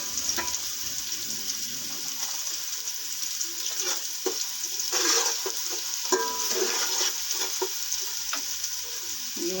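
Ingredients for macaroni sizzle lightly in a pan, a steady frying hiss with occasional stirring scrapes and clinks close by, no talking.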